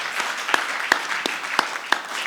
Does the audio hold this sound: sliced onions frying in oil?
no